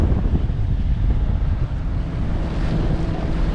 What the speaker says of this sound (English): we've got some wind